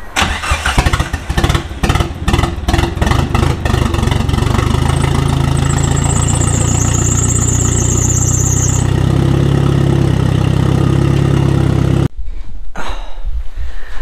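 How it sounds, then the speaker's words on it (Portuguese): Car engine fitted with a Garrett GT2871 turbo starting with a few sputtering turns, then settling into a steady, loud, close idle with a high whine above it, cutting off near the end. "meter o carro a trabalhar durante uns 5 minutos"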